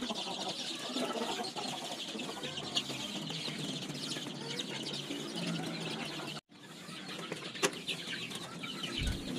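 Two-week-old village chicks (ayam kampung) peep and chirp continuously in a wire-mesh pen at close range, with older fowl clucking now and then and a brief lull partway through.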